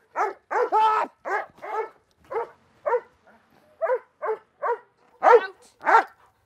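A trained guard dog barks in a string of loud, close barks during an attack demonstration, about a dozen sharp bursts spread steadily with a louder pair near the end.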